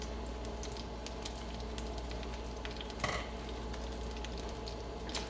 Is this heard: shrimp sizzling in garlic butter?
yes